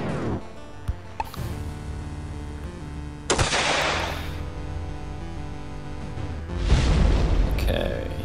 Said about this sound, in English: Grenades seem to work better than the rifle.